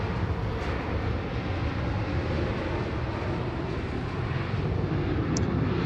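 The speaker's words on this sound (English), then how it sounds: "taxiing up. Looks like she's going to be heading to the full length up here at 16 right, heading back to Noumea." An Air Calin airliner taxiing at Sydney Airport toward runway 16 right, a steady broadband jet engine roar, constant and fairly close, with no talking.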